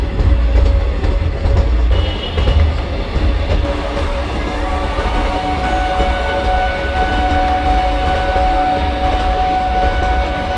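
A Kanpur–Tundla fast passenger train running in the MSTS simulator game, with a loud, steady rumble and rhythmic clickety-clack of wheels on rails throughout, heard alone without talk.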